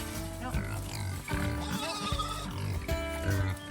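Pigs rolling in mud grunt and oink repeatedly, loud and close, over a dense noisy farm background with overlapping animal calls.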